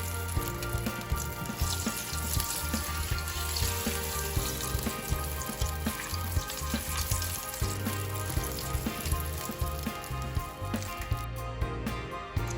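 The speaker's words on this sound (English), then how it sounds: "And I fried the green tomatoes." Battered green tomato slices fry in hot oil with a steady, dense sizzle and crackle that runs unbroken from start to finish at a moderate, close level, with no talking over it.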